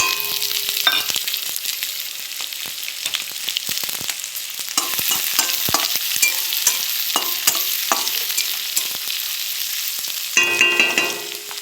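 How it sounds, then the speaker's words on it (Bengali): Onions sizzle and crackle steadily in hot oil, with scattered sharp clicks of stirring and a louder burst of frying near the end; no talking. "এই দেখো পেঁয়াজ লাল করে ভাজা হয়ে গেছে"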